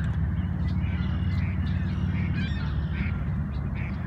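Goose honks at a lake near Niagara, several calls over a steady low rumble of wind or water, fairly close and continuous with no talk.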